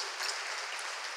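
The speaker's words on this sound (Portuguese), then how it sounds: "dê um aplauso ao nome do Senhor Jesus" A church congregation claps briefly in praise, a soft, even wash of applause at a moderate distance.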